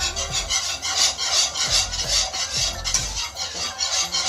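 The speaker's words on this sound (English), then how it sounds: "as I'm stirring, I'm just gonna add the milk slowly" A whisk scrapes and swirls rhythmically in a pot as milk is stirred into a sweet potato sauce, a close, repeated rasping beat with no talk.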